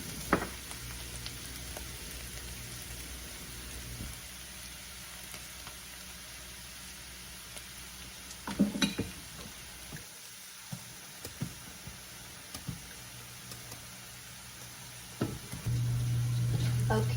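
Onions caramelizing in a quarter cup of olive oil for French onion dip, a quiet steady sizzle with occasional clinks and stirring sounds.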